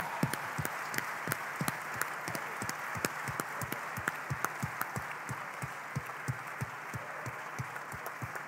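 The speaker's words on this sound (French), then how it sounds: "On peut les applaudir très fort." An audience at an African young-entrepreneur prize ceremony claps steadily, producing a sustained wash of applause with distinct individual claps cutting through, moderately distant and without speech.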